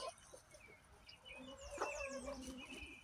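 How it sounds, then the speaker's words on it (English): Chickens in a muddy chicken run give soft repeated clucks and short calls, fairly faint and close, over low scuffling noise. "the chickens help me spread them out"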